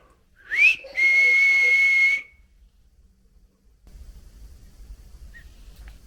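During a ghost hunt inside a house, a short rising whistle is followed by one long sustained high whistled note, then quiet with low rumbling handling noise.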